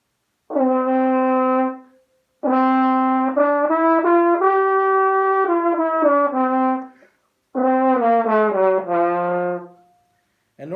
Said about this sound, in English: all I was doing was playing with a good fundamental embouchure, but with my tongue raised to the roof of my mouth the entire time